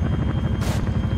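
A helicopter in the video game ArmA runs with a constant loud rotor thump and turbine whine, close by and steady, with a brief rush of noise partway through.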